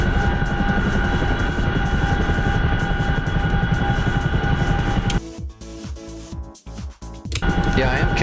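Chinook helicopter engine in a Syria combat flight game, a loud continuous rotor and turbine drone that drops away briefly in the middle before returning at full strength.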